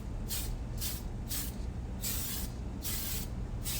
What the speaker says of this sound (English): Normally with spray paint, you want to start spraying off and then drag it across.